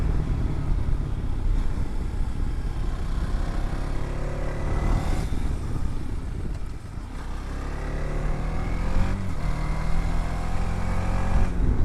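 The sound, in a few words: TVS Apache RTX 300 motorcycle engine accelerating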